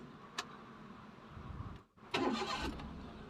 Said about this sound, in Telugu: మనం వెహికల్ స్టార్ట్ చేస్తున్నాం ఇప్పుడు